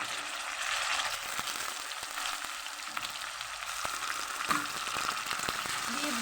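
Ground onion paste hits hot oil in a pan and sizzles continuously, with bright crackling spits and a few scraping stirs; no talk over it.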